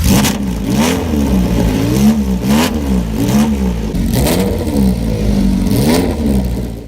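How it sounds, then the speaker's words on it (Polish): A 2-litre V8 sports car engine with multipoint injection revs repeatedly, rising and falling in several loud, close bursts with a rasping tone, no voices. "Do napędu użyto silników V8 o pojemności 2 litrów, w którym zastosowano wtrysk wielopunktowy."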